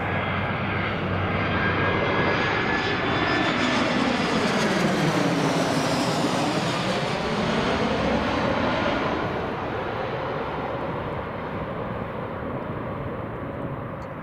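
EasyJet airliner landing on runway 05 at Glasgow Airport, a steady loud jet engine roar with a pitch sweep as it passes nearby, then slowly easing off.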